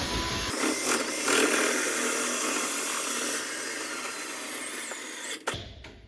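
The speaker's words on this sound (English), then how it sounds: "what I found a tip is you just put a drill on there." A power drill whirs continuously at a steady pitch for several seconds, then cuts off abruptly near the end, leaving a brief clatter.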